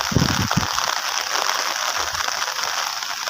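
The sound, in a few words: rain falling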